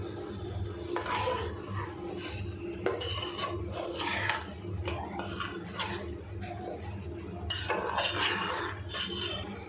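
A spoon scrapes and stirs chicken with salt in a pot for chicken dum biryani, giving close, repeated rasping and clinking strokes in an uneven rhythm, with faint sizzling underneath.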